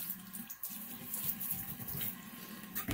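Warm water runs from a tap into a sink while splashing on the face, a steady rushing flow with brief dips and surges, close and fairly quiet, no voices.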